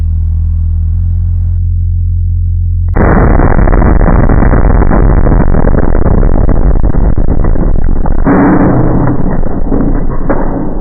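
A simulated lightning surge hits an electrical consumer unit fitted with an RCD. A low steady hum cuts abruptly into a loud, harsh, sustained crackling roar that runs for several seconds, with a shift partway through.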